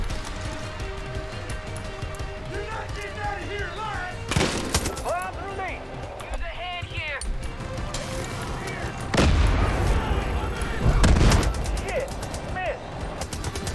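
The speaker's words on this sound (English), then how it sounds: "Taking heavy fire!" Heavy gunfire erupts in the video game Far Cry 5: repeated loud shots and booming blasts burst out over steady game noise and music. Voices talk and call out during the action.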